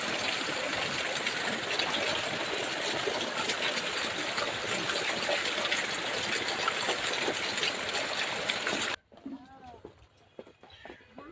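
Heavy rain pours down on a damaged house in Bihar, with water leaking inside. The downpour is a loud, dense, steady roar for about nine seconds, then cuts to a much quieter, sparse background.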